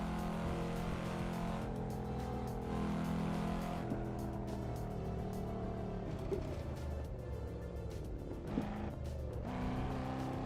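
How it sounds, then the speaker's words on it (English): A car driving at night through Japan in the Assetto Corsa racing simulator, with a steady engine drone, shifting revs and brief tire noise running continuously throughout, fairly close and alone without talk. "I am playing Assetto Corsa for a change"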